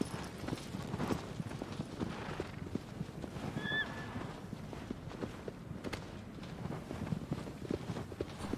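A horse walks with steady clip-clopping hooves in the video game Shadow of the Colossus, the rhythmic footfalls continuous and fairly close, with a brief whinny midway.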